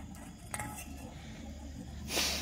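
Egg, sugar and milk are mixed in a bowl for milk toast, with faint clinks of a utensil against the dish over quiet room tone and a brighter scrape near the end.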